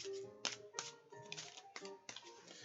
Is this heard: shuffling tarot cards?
yes